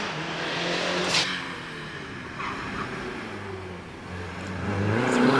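A front-engined Porsche with a 2-litre engine accelerates up a hill climb course at Prescott, its engine note rising and changing pitch as it passes, moderately loud and steady with no talk.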